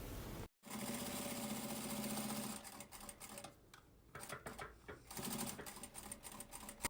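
A domestic sewing machine stitches a fabric lining between two marked points, running in a steady, close whirring burst, pausing briefly, then stitching again in shorter uneven runs with no talk.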